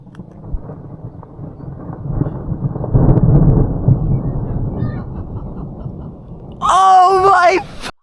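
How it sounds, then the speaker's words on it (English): Thunder rolls low and heavy during a storm, a long rumbling swell that builds and lingers for several seconds before an excited voice breaks in near the end. "we were only able to capture the thunder"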